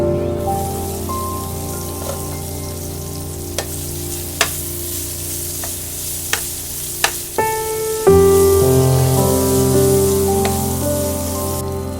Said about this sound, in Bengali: এবার পটলগুলোকে 1 টেবিল চামচ সাদা তেল দিয়ে ভালো মতো ভেজে নিচ্ছি।